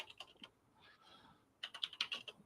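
Fast bursts of computer keyboard typing, a quick flurry of clicks, then a quieter pause and a louder, denser run of keystrokes, close and dry with no talking.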